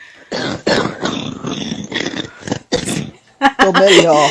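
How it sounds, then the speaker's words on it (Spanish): A woman gives a series of harsh, barking coughs in uneven bursts, loud and close, ending in a rougher raspy fit. "totalmente con mi tos de perro"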